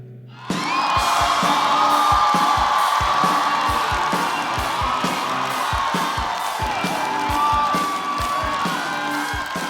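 A studio audience at a stand-up comedy show bursts into loud, sustained applause with whoops and cheers as a comedian is welcomed on stage. The roar starts abruptly and stays full and dense throughout.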